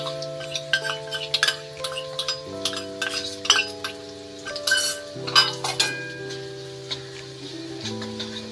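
Kashmiri chili powder stirred and roasted in a pan gives soft scraping and clinks of a spoon against the metal, a faint sizzle, and sustained tonal hum layered underneath.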